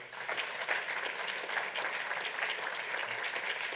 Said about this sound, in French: Merci, on vous applaudit.